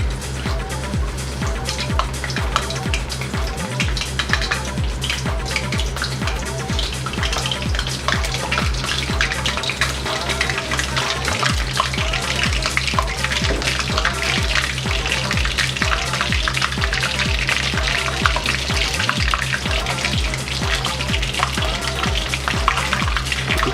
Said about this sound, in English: As you can see, that oil is splattering.